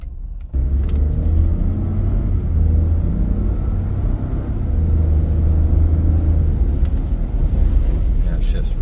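Steady low engine rumble of a 2020 Ford F-150 XL STX 2WD pickup driving along, with the drone holding through a gear change and occasional faint clicks over the road noise.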